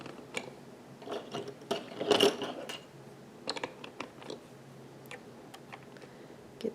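An Addi knitting machine is cranked slowly, giving soft clicking and ratcheting ticks in uneven bursts, with one louder clatter near the middle, all fairly quiet and close with no voices.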